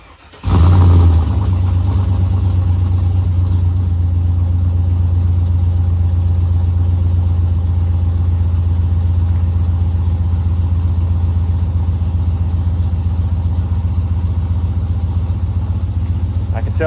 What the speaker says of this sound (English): we're about ready to fire this puppy up and see how this new header set from Dynovox sounds